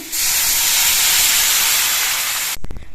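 Broth poured into a hot pan of fried mango pieces sets off a loud, steady, close steam hiss lasting a couple of seconds before it suddenly cuts off, followed by a few soft knocks.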